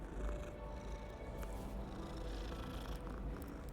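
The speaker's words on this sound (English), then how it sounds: "Oh, you're just a kitty cat." A cat in the game Hogwarts Legacy purrs in a low, continuous rumble, quiet and close, with a faint meow-like tone mixed in.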